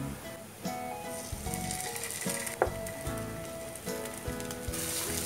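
Chicken masala with tomato sauce sautéing in a pan, a steady close sizzle and frying hiss with occasional scrapes and clinks of stirring, no voices.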